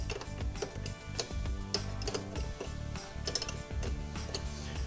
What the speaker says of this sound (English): using a 13mm wrench, we're going to disconnect the negative battery terminal.